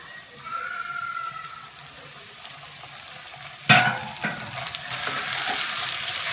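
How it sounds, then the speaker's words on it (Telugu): Ginger garlic paste sizzles in a hot kadai of oil while tomato pulao is cooked, with a steady frying hiss, a sudden sharp clatter and splash partway through, then a louder continuous sizzle. "ఇది కూడా కొంచెం రా స్మెల్ పోయేంత వరకు ఫ్రై చేసుకోవాలి."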